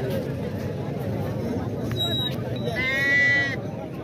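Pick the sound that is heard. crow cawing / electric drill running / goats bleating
goats bleating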